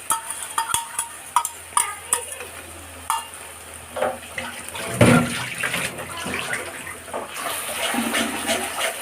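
Potato biryani mixture with beaten sour yogurt being stirred in a pot, a spoon scraping and clinking in irregular strokes over a soft wet sizzle, close and moderately loud.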